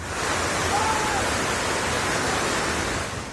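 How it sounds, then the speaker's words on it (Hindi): Fast-flowing floodwater in Ganderbal, Jammu and Kashmir, rushing after heavy rain: a loud, dense, unbroken roar that holds steady from start to end. "तेज रफ्तार पानी जब घर में घुसने लगे"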